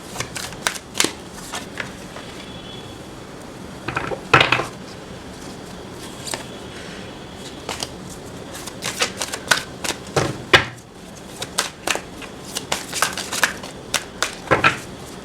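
Tarot cards being shuffled and handled during a tarot reading, giving close, irregular papery riffles and snaps in scattered bursts over a quiet background.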